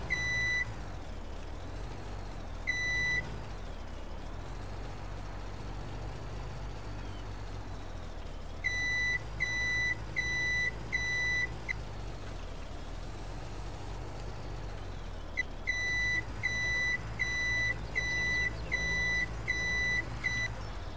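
Repeated electronic truck reversing beeps in Farming Simulator 17, short regular bursts over a low engine drone, pausing and resuming several times, sounding synthetic and game-like.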